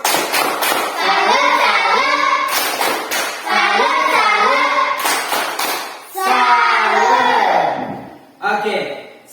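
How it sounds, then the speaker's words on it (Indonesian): Schoolchildren in a classroom perform a tepuk salut, a salute clap. Sharp hand claps come in a patterned rhythm, interleaved with their loud chanted voices across the whole passage. "Tepuk salut."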